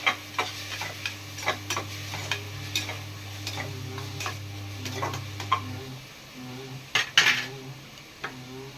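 A spoon scrapes and clinks in a pan while mutton curry masala with garam masala is sautéed, sharp metallic taps recurring irregularly over a low steady hum that cuts out partway, no voices.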